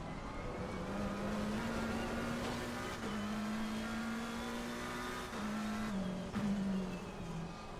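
A race car engine in the Assetto Corsa Competizione racing game at Monza holds a steady tone, then drops in pitch with brief shifts as the car brakes and accelerates. The engine is continuous and fairly quiet, with no talking.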